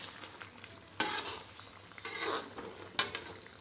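Three sharp bursts of loud sizzling, about a second apart, each hiss fading quickly as water hits a hot pan of frying meat.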